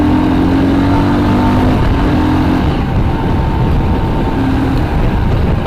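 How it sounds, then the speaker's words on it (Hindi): A Royal Enfield Scram 440 motorcycle downshifts with rev matching, its engine loud and close throughout as a continuous drone with brief shifts in pitch. "आप मल्टीपल डाउन शिफ्ट कर सकते हो, रेव मैचिंग करने में कोई प्रॉब्लम नहीं है लाइक दिस।"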